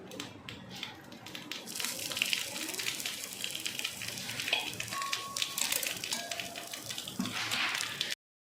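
Water pours and splashes faintly onto a metal pot lid over cooking chicken, a soft continuous trickle with small clinks, no voices.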